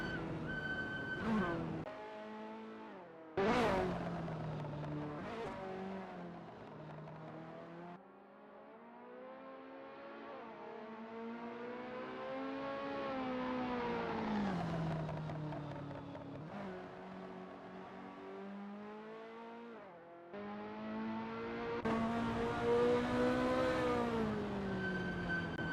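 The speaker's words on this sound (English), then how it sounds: "That ASRL Ferrari F40 looks good driving through Clubhouse Bend." A Ferrari F40 race car in a racing game lapping Kyalami circuit through Clubhouse Bend: a loud, high-revving engine howls and climbs through the rev range, with abrupt shifts and lifts, steady and close, no talk.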